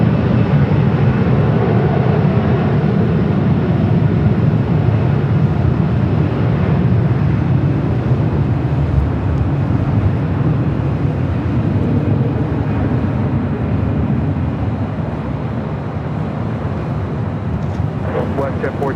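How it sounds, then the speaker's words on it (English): Boeing 777 freighter taking off at LAX, a loud, continuous low jet roar that holds steady and slowly eases, with a voice talking over it throughout. "the 777 freighter heading to Mexico City, rolling down to 25 left"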